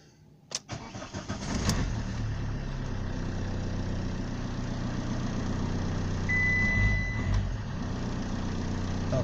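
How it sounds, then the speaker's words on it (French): A Fiat Stilo, just refitted with a replacement crankshaft position sensor, cranks briefly and catches, then settles into a steady, close idle that keeps running. "Donc la voiture elle démarre bien."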